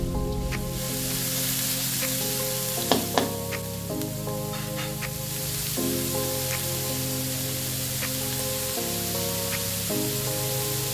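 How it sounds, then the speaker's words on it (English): Chopped onions and curry leaves fry in a pan with a continuous soft sizzle and a couple of stirring clatters, close-up, under a steady tonal background hum, with no talking. "Now let's fry these onions until they turn a light brown in color."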